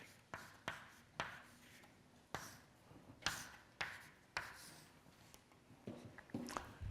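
Chalk or marker strokes on a lecture-hall board during a physics lecture, a steady series of sharp scratchy taps and short rubbing strokes repeating in rhythm, fairly close and alone with no talk.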